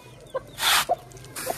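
A hen clucks in short, separate bursts while waiting for water in a bird cage setup, with soft handling noises and rustling close by.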